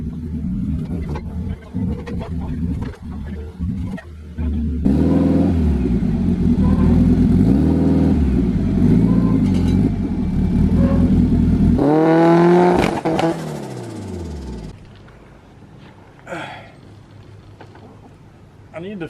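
A turbocharged K20-swapped Toyota MR2 Spyder engine cranks, catches and revs hard several times in rising and falling sweeps, loud and close, then settles to a rough idle; people talk around it.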